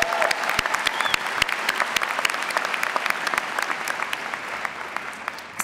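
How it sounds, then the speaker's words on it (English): A ceremony crowd gives the graduating engineering class of 2018 a round of applause, sustained dense clapping from many hands in a large hall, with sharp individual claps standing out. "Another round of applause for you."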